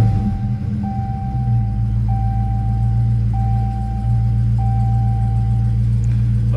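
A 2020 Dodge Charger Scat Pack with the 392 V8 rumbles at a deep, steady idle close by, while a thin dashboard chime pings at even intervals over the engine.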